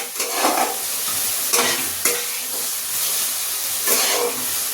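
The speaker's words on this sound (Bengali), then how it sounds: "মাংসটার সাথে পেঁয়াজটা আর টমেটোটা আমি খুব ভালোভাবে কষিয়ে নিচ্ছি।" Chicken cooking in a dry pan with onion and tomato and no oil, a continuous hiss and sizzle up close, punctuated by several scraping stirs of a spatula, with no talking.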